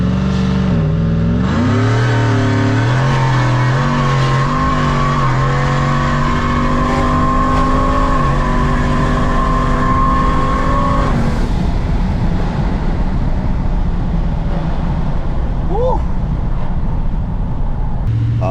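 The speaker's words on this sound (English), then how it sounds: "Start revving her engine at you and you open up those cutouts." Procharged 5.3-liter V8 in a 2018 GMC Sierra crew cab revving loudly with exhaust cutouts open, a steady rising drone held for about ten seconds before dropping to a rough, rumbling idle.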